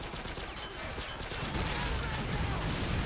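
Dense, continuous modern-war gunfire and explosions in a Call of Duty: World War 3 mod battle, with a Bradley fighting vehicle firing a rocket amid the loud, unbroken barrage of rifles and machine guns.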